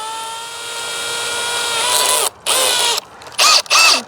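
A power drill hooked to a jack for pressing apples whines at high pitch, rising in speed. It then runs in several short bursts with brief stops, loud and close.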